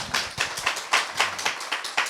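An audience of around twenty young people at a Buddhist talk-concert claps in a brief burst, the separate claps sharp and fairly close, sounding like a small crowd rather than a big hall.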